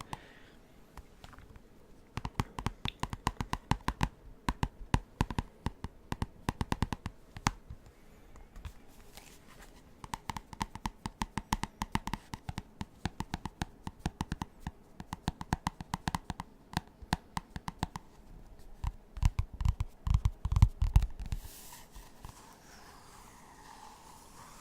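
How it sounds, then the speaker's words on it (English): Close ASMR tapping: bursts of quick, crisp taps that run in dense rapid flurries, pause briefly, then resume, growing busier near the end against a quiet background. "We have things such as tapping sounds."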